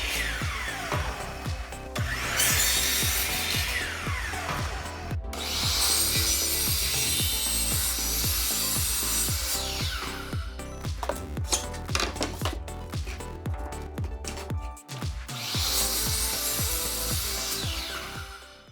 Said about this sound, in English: I used a single sheet of construction plywood and started by cutting out all my pieces using the table saw